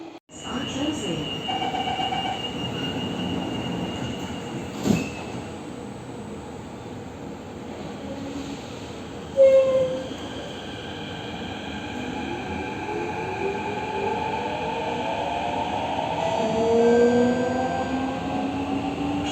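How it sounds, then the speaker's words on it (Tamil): An underground metro train rumbles steadily along, its wheels squealing and its motor whining as the pitch rises and falls, with faint voices occasionally beneath the noise. "இப்போ நம்ம எங்கே போயிட்டுருக்கோம்னு பார்த்தீங்கன்னா மெட்ரோவில் போயிட்டுருக்கோம்"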